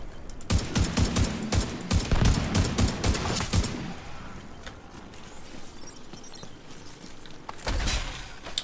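Rapid bursts of M1A rifle fire in The Division 2 video game, a close, loud fusillade that runs for about three and a half seconds and leaves a lingering ambient tail, followed by one more short burst near the end.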